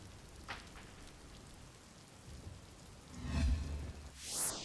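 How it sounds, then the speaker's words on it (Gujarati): Heavy downpour in Keshod, Gujarat, a steady faint hiss of rain on surfaces throughout, with a slightly louder swell of splashing near the end. "કેશોદમાં આજે અનરાધાર વરસાદ વરસી રહ્યો છે।"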